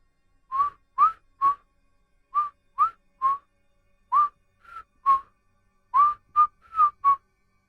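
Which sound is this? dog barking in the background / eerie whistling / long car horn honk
eerie whistling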